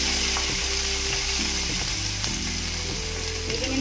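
Onions fry with asafoetida in a hot pan, giving a loud, steady sizzle close by, with faint stirring and scraping running through it.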